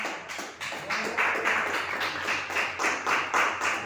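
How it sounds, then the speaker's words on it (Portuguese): Church congregation clapping hands in rhythm, a steady run of sharp, fairly close claps repeating about every half second throughout. "Sente um instante e bate as palmas para Jesus."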